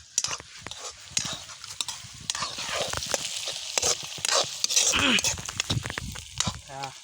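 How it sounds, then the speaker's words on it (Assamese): Meat frying in a pan with tomatoes is stirred briskly, with a loud crackling sizzle under repeated scraping and clattering strokes of the spatula, close and busy throughout. "মাংসটো অলপ লৰাই দিওঁ"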